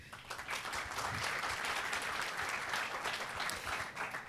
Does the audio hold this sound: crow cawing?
no